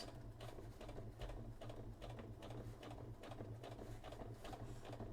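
A sewing machine stitches a circular sleeve for a Sisters of Battle cosplay, a steady rapid mechanical patter running continuously at close range over a low background hum, without speech.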